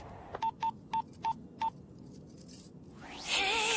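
Telephone keypad dialing tones: five short, evenly spaced beeps sound as a number is entered, quiet and close, followed by a brief rising electronic noise.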